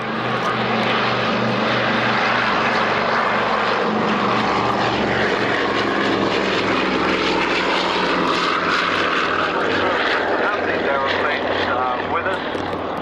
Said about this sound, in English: There she goes, ladies and gentlemen, the Berlin Historical Foundation C-54E Spirit of Freedom.